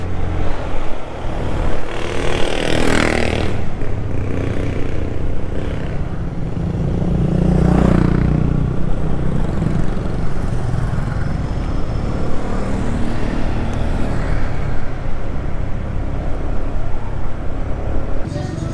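Steady drone of a Honda Click 125i scooter in motion on a Philippine road near Governor's Drive, with constant engine hum and wind rush, brief rises in revs, and road noise throughout.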